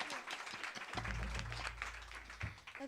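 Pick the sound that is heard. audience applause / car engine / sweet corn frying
audience applause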